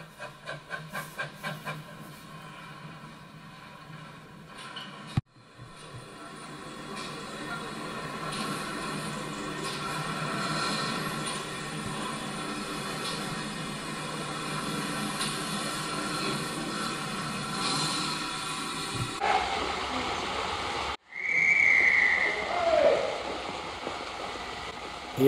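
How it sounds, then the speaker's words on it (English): An empty quarry train on a model railway runs past with a steady mechanical hiss and rumble that rises after a few seconds and holds, then cuts off briefly before a shorter burst near the end. "We'll be away as soon as the old quarry empty train comes through."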